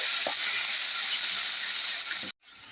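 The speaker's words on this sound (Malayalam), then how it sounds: "ചെറിയ ഉള്ളിയും തക്കാളിയും ചേർത്ത് നന്നായി വഴറ്റിയെടുക്കുക." Shallots and tomatoes sauté in hot oil with fenugreek, garlic, dried chillies and curry leaves for a spicy curry, giving a loud, steady close sizzle with faint stirring scrapes before a sudden brief cut-off.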